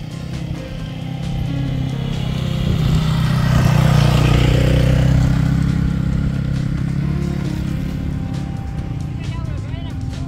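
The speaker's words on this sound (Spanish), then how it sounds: "Escucho una moto, puede venir alguna por punta." Motorcycle engine droning past during an outdoor mountain bike race, building gradually to a peak near the middle then fading, with a commentator talking over it throughout.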